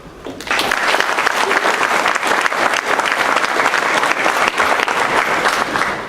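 Sustained round of applause from a crowd at a prep football awards luncheon honoring high school athletes, loud and steady throughout, filling the room without any talk over it.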